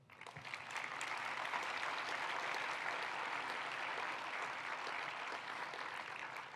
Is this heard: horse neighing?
no